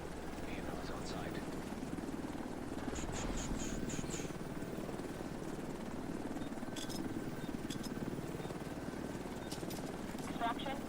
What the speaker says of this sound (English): Helo's on site.